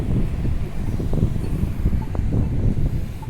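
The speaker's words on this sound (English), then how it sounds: "A little bit more of the wind" Wind gusting outdoors on a city street walk, a loud, constant low rumble buffeting the microphone for a few seconds, with no voices.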